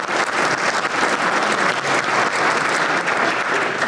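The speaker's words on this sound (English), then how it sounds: "They should be applauded." A room full of attendees at a breakfast forum claps loudly and steadily, a dense sustained burst of applause close and alone with no talking.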